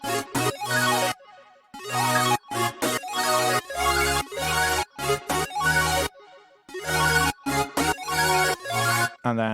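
Several synthesizer layers from an electronic dance track play together in choppy rhythmic bursts, bright stacked tones stopping and starting with short silent gaps between phrases.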